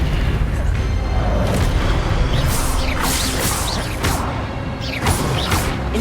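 An Expelliarmus spell cast in Hogwarts Legacy: loud magical bursts with sweeping whooshes and booming impacts, several in quick succession over dense game effects.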